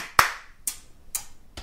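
Four sharp hand claps spaced about half a second apart, the first loudest, played as body drumming in a children's rhythm game, close and clear with no voices.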